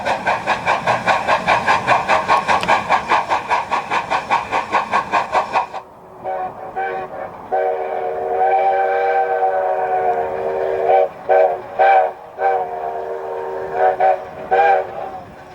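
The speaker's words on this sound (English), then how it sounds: "The running gear is watched closely as the locomotive continues its break-in movements." Grand Canyon Railway 4960, a freshly rebuilt steam locomotive, makes slow break-in moves, giving a steady rhythmic chuffing with hissing steam at first, then a sustained whistle-like tone with short bursts.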